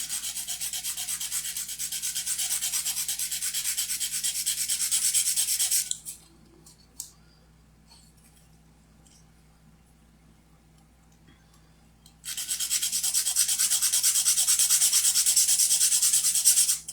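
A nail file rasps back and forth across a fingernail, a close, steady scraping that runs for several seconds, stops into near silence, then resumes just as loud.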